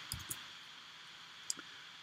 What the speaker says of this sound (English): I can use the keyboard shortcut,